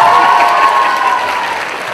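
Crowd at a school homecoming frolic applauds and cheers loudly, a sustained wash of clapping with shouts and whoops layered on top, continuous and close throughout.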